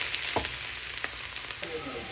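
Kappa and onion fry in a pan, giving a steady close sizzle with a few soft stirring scrapes.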